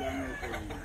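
A hen clucks close by in a short, busy burst.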